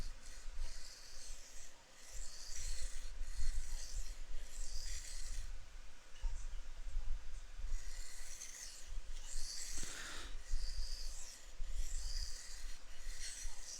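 A Spyderco Para 3 knife blade is drawn along a sharpening stone to raise a burr on one side, producing steady, repeated rasping strokes close up in a quiet room.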